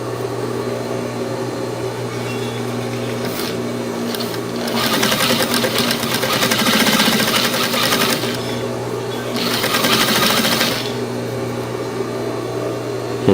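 A sewing machine fitted with a bias tape attachment stitches bias tape in a steady, close mechanical whir, speeding up into two louder, faster bursts of rapid stitching before easing back.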